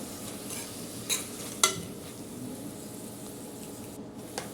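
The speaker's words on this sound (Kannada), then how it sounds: "ಚೆನ್ನಾಗಿ ಇನ್ನೊಂದು ಸಲ ಬಾಡಿಸ್ಕೋಬೇಕು" Rice bath masala sautéing in oil in a pan, a faint steady sizzle with a couple of sharp spoon scrapes and clinks against the pan, nearby and quiet.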